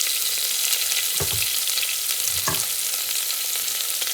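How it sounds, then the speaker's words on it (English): Onion and rampe sautéing in a pan for lamb curry, a steady close sizzle with two brief stirring scrapes, no voices. "Now I'm just going to put the onion and ramba in it so that it's sauteed"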